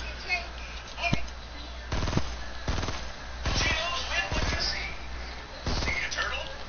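Gunfire in the video game Fortnite: sharp bursts of shots in quick succession, several distinct volleys spread across the clip over a constant background hum.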